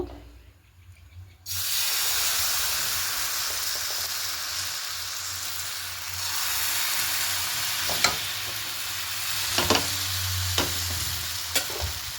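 Butter sizzling and frying in a hot pan for pancake batter, beginning abruptly after a quiet second and holding steady, with a few faint clinks of a utensil near the end.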